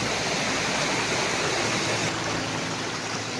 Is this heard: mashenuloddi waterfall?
yes